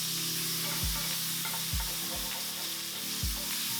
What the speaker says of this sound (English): Put a pan on medium heat, oil in, seitan in, give it a good stir,